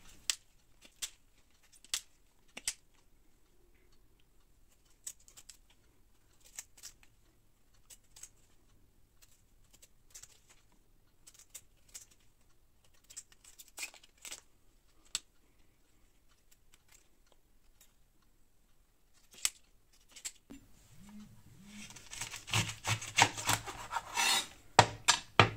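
Artichokes being peeled and trimmed by hand with a knife, leaving part of the stem: faint scattered crisp snaps and rasping scrapes, close up, with a busier rubbing and cutting stretch near the end.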